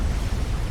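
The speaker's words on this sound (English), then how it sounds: "Bombs connecting, you can see the beautiful explosions, and boom!" Heavy bomb explosions in the strategy game Supreme Commander: Forged Alliance, a dense low rumbling boom that stays loud and continuous through the whole brief moment.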